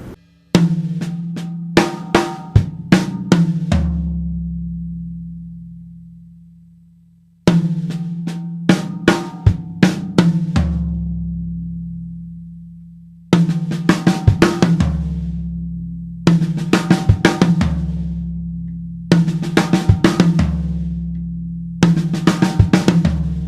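Fast gospel drum fill on a full kit, snare and tom hits cascading down to booming floor tom, played four times with ringing decays between passes.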